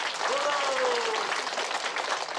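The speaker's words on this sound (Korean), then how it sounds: "박수 한번 보내주세요" An audience at a rhythm dance club gathering in a Seoul dance hall claps briefly while a voice carries on over the applause.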